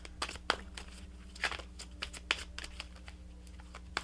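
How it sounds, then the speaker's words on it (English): Tarot guidance cards being shuffled, a run of crisp, irregular card snaps and riffles close to the microphone over a low steady hum, no voices. "Let's pull you some additional guidance cards"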